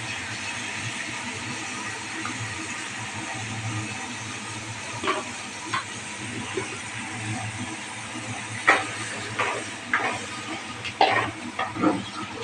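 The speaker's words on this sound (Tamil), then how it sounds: "இதில் கொஞ்சம் தூள் போட்டு வணக்கிக்கலாங்க காரம் நல்லா பிடிக்கும்" Eggplant sautés in a pan with chili powder, with a continuous close sizzle and, toward the end, a run of scraping and stirring knocks from a spoon against the pan.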